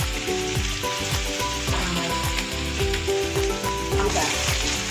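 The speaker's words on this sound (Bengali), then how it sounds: "এই তেলের মধ্যে আমি একটু রসুনটা দিচ্ছি" Garlic paste frying in hot oil on a gas stove, a loud, busy sizzle with crackling spits close by, no one speaking.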